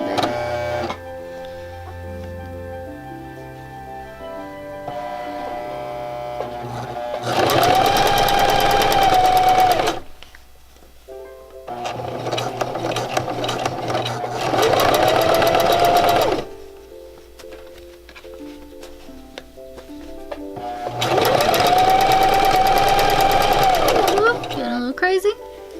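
Sewing machine stitching fabric for a Ren Faire pouch, running in three loud, steady bursts separated by pauses, with someone speaking between and over the runs.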